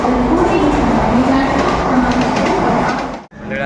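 A local train at Mumbra railway station rumbles loudly and steadily with a droning hum, then the sound cuts out abruptly near the end before resuming; faint voices mix into the noise.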